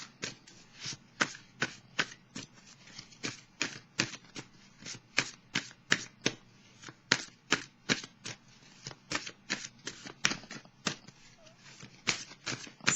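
Tarot cards are shuffled and drawn close up, making a fast, steady series of crisp flicks and riffles that run without a break for the whole stretch.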